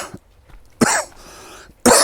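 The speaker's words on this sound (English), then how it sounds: "I've got a bit of a cough." Two harsh, close coughs burst out about a second apart, with a softer throat sound between them and quiet pauses around.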